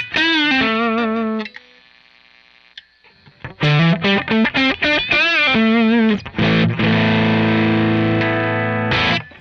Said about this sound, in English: The neck pickup sound, single coil.